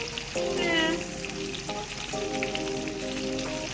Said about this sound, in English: Don't take long for these to fry up.